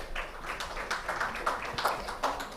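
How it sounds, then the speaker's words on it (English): Audience applause at a plenary session of an international conference on sustainability education, welcoming a speaker to the stage: a steady patter of many hands clapping throughout. "Let's have a round of applause for her welcome"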